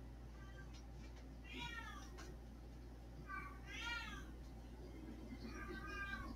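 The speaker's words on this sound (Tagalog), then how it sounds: "Hinahanap ng pusa yung mga babies niya." A mother cat meows repeatedly while searching for her kittens, giving several drawn-out, quiet calls spread across the stretch over a steady low hum.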